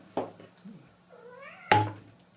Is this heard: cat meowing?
yes